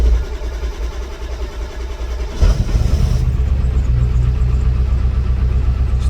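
A Ford 7.3L Powerstroke diesel, cold and with faulty glow plugs, rumbles at a low idle. A fuller, louder engine note takes over partway through and settles into a steady close idle.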